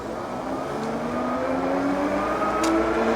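An Evercross EK6 electric bike accelerates on its twist throttle, a steady motor whine climbing gradually in pitch over wind and road rumble, close and continuous without speech.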